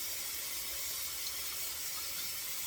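Tap water runs steadily into a kitchen sink for a second wash of collard greens, a soft continuous hiss at low level with no speech.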